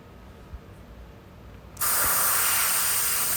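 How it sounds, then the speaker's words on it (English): Compressed air blasts into a dusty PS4 console, starting abruptly partway through as a loud, steady, broadband hiss that holds to the end after a quiet, faintly noisy opening. "Utilizing compressed air is vital to protect the APU from overheating."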